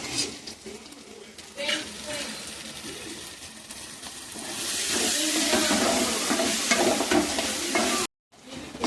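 Meat and potatoes sauté in a pot in a traditional village kitchen, giving a steady, close sizzle with stirring scrapes that grows louder and hissier in the second half before a brief cutoff.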